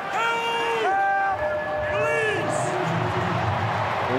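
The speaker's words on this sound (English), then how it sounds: "Wonderful crowd here at the SCG." Stadium crowd at the SCG during an Anzac Day rugby league match between St George Illawarra Dragons and Sydney Roosters, a broad roar of cheering beneath loud whistle-like tones and commentator talk.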